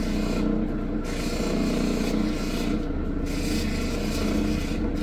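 Rough Ethiopian opal is ground into a cabochon on a lapidary wheel, a continuous close gritty rasping whir with slight pulses as the stone is pressed and lifted, no voices.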